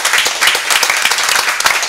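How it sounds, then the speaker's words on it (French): Dense, loud applause from an audience at a broadcast event, a steady wash of many hands clapping continuously without pause. "on l'applaudit encore très très très fort"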